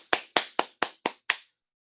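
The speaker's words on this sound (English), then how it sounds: "Round of applause" Six sharp, evenly spaced hand claps ring out close and clear, then stop, leaving silence, like a small scattered round of applause.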